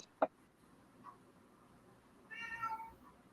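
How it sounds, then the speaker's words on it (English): A cat meows faintly in the background after a sharp click, a short rising mew sounding from a distance in an otherwise quiet room. "I hear a cat in the background."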